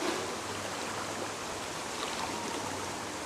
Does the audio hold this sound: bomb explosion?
no